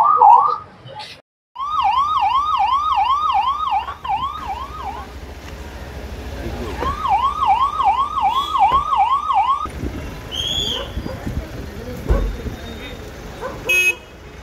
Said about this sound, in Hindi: सायरन चालू आहे